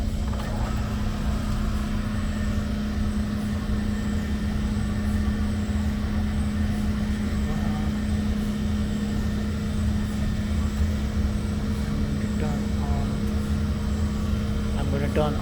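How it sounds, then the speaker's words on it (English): A vacuum pump at a SAXS X-ray instrument drones continuously, a steady mechanical hum with a strong low tone at an even pitch throughout. "let me start the vacuum pump here."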